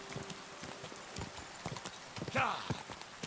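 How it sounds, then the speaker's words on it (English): Horse hooves galloping in Kingdom Come: Deliverance II, a steady rhythmic clip-clop of hoofbeats at close range with a brief whinny midway, faint under the background. "Run like the wind, Pebbles. Quick. Good horsey."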